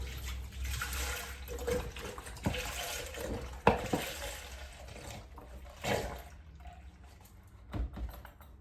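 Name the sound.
pouring soy milk into a jar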